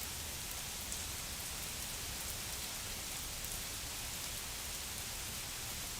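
Heavy rain pours down in a dense, continuous hiss of drops hitting surfaces, steady and loud throughout with no break and no voices.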